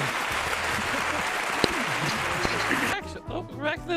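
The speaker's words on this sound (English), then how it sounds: "everyone, give yourself a big round of applause" Dense applause and cheering from a crowd at a game show-style event, loud and steady for about three seconds before cutting off into a voice speaking over background sound.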